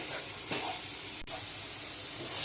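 Amaranth leaves with chickpea flour fry in a pan as a curry, a steady, fairly faint hiss and sizzle that continues evenly throughout with one brief dip.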